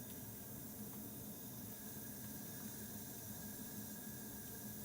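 A cleaning appliance gives off a steady, loud, broadband hiss with a faint high squeal, unchanging and continuous throughout with no talk.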